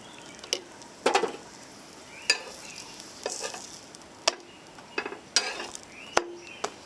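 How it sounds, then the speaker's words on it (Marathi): Khava satori pastry frying in ghee on a pan gives a soft, steady sizzle, broken by occasional sharp clicks and taps of a spatula, close and fairly quiet with no talking. "तूप घालत घालत त्याला छान आपल्याला भाजून घ्यायचं आहे"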